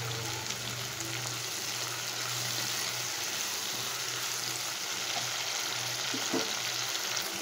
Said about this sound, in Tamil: இப்போது இதுலேயே நம்ம தக்காளியும் போட்டு நல்லா வதக்கிக்கலாம்.